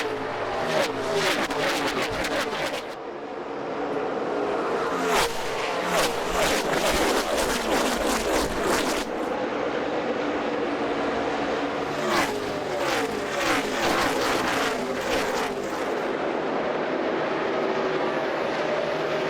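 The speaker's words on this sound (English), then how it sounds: "Kyle Larson gassed it up in the middle of 3 and 4, cleared the traffic to get second" NASCAR Xfinity Series race cars roar past at Homestead-Miami Speedway in the 2014 Ford EcoBoost 300, engines loud and sustained with repeated surging passes, while broadcast commentary runs underneath.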